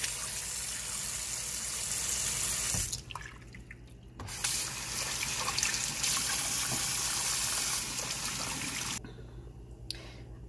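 Serrano peppers are rinsed under a kitchen tap. Water runs and splashes steadily into a sink, cuts off briefly twice, then resumes loud and close, with faint handling clatter.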